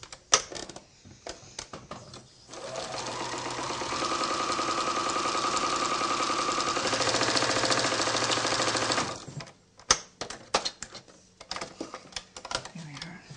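A sewing machine stitches a quarter-inch seam joining fabric to lining, running in a steady rapid chatter for several seconds, with a voice talking briefly before and after.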